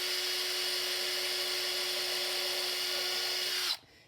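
A power drill bores through a hand-lettered wooden sign held up off a kitchen table, giving a loud, steady high whine for nearly four seconds before cutting off abruptly.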